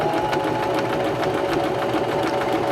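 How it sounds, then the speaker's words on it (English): Singer Start 1306 sewing machine stitching one side of a buttonhole, a steady close motor whir with a fast rhythmic needle chatter running continuously and loud throughout. "And now we can continue sewing, and this will sew the right side of our buttonhole."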